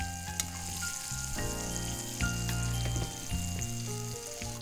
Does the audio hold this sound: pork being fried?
yes